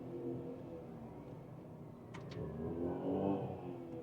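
Tata Tiago hatchback with manual gearbox engine braking in third gear, a steady mid-pitched engine drone inside the car that swells a little toward the end, with no talking.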